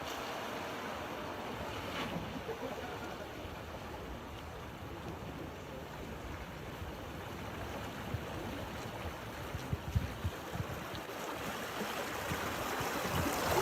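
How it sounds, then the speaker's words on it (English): Rivian R1T and R1S electric trucks drive through a water trough at a test site, with a continuous rushing, splashing wash of water and a few small sharper splashes near the end. "This is Rivian at their water trough test."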